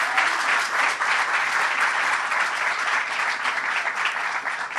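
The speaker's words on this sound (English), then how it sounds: "I'd like you to give Senator Murphy a round of applause" An audience at a drug epidemic bill signing claps steadily and loudly throughout for a senator, a dense, sustained round of applause with no pauses.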